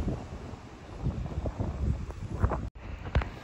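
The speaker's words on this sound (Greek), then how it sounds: "Ο καιρός άρχισε τώρα να φυσάει πολύ." Strong wind gusting during a wildfire near Alexandroupolis, a continuous rough roar buffeting the microphone with rustling swells and one brief dropout.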